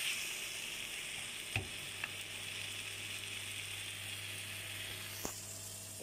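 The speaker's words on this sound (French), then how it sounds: "Donc là, la pâte, je laisse un petit peu mijoter" Thick sausage-and-cabbage paste simmers in a pan with a steady, close, soft sizzle throughout, broken by a few brief clinks of stirring.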